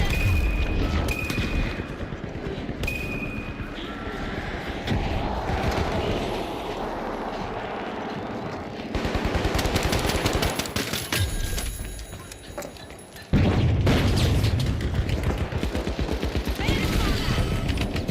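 Rapid bursts of gunfire and booming frag grenade blasts in the shooter game The Finals, loud and dense with sharp cracks, a short lull, then a heavy explosion-laden stretch near the end, with game voice callouts mixed in.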